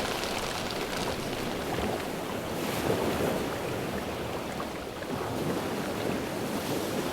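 Open ocean waves slosh and churn around a sea kayak, a continuous close wash of water mixed with gusting wind noise, and no voices.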